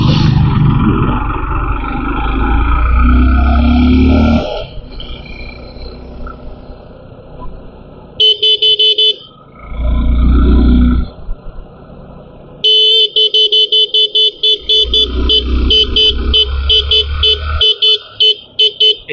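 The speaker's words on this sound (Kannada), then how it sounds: "ಫೇವ್ರೇಟ್ ಹಾರ್ನ್ ಎಲ್ಲ ಕಡೆ ಹಿಂಗ ಬರ್ತದೆ." A Suzuki V-Strom SX 250 motorcycle horn sounds in loud bursts, with a longer blast early on and then a run of quick repeated toots, while the engine idles underneath.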